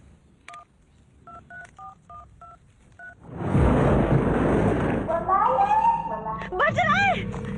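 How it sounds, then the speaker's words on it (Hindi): A run of touch-tone dialing beeps, about ten quick tones, then a loud burst of noise followed by a warbling electronic ringtone. "मेरा फोन। घंटी सुनाई दे रही है।"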